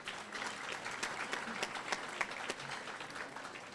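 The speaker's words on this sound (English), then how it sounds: "Let's have a round of applause for the trustees," An audience at a community college scholarship gala applauds the trustees, dense even clapping at moderate level with a few sharper claps standing out, continuing throughout.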